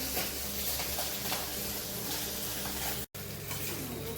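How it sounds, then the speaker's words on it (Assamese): Fish sizzling steadily as it fries in oil in a pan, a constant crackling hiss with a brief cut near the end and no talk. "মাছ ফ্ৰাই কৰি আছে।"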